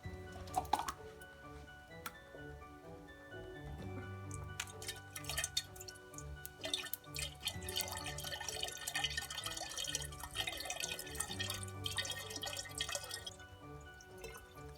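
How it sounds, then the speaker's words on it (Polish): Water trickles and splashes into a jug of fermenting homemade wine, with dripping and gurgling that thickens into a fuller pour before tapering off, fairly close and moderately quiet. "Dolewamy wodę."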